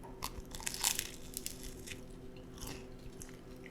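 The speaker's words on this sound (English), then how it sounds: "let's take a bite of this Fool's Gold. We're going to make a little crunch on the mic" Close biting and crunching into a Fool's Gold sandwich loaded with blueberry preserves, bacon and peanut butter, with a few crisp crunches and chewing sounds near the microphone.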